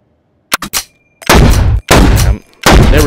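Several sharp shots from a gun in a VR shooter at a sniper position: three quick cracks, then three long, loud, ringing blasts, close and unaccompanied by talk.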